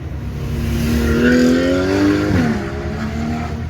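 A car engine during a driving lesson hums and rises in pitch as the car accelerates, then drops sharply at a gear change and settles into a steady drone. No voices are heard.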